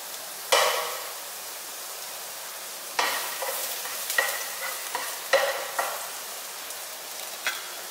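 Garlic and red onion fry in a pan with a bright crackling sizzle that flares each time a spatula stirs and scrapes, in irregular bursts and with no voices.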